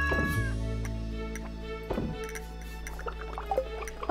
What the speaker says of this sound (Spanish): ¿Dónde está el gatito? ¡Gatito!